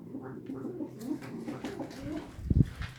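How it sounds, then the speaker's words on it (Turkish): Pigeons coo softly nearby, low murmuring calls repeating over a few seconds, with a louder burst of cooing toward the end and no speech. "bu kuşları da yeni aldım"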